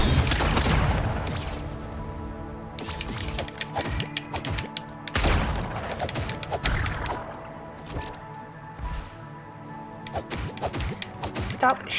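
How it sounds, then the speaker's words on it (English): Enemies in a video game keep shooting at the player, with repeated sharp bursts and impacts landing at irregular intervals across a busy, clattering soundscape. "Stop shooting me!"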